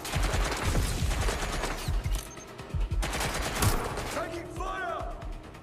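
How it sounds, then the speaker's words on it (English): Automatic gunfire rattles through a shootout in the video game Watch Dogs Legion, dense bursts of shots stacking up for several seconds with a short lull, while a player's voice and game effects cut in near the end. "Taking fire!"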